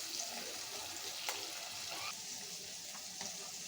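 Pieces of chicken meat fry in a pan with only a little oil, giving a soft, low, even sizzle with a couple of faint stirring ticks.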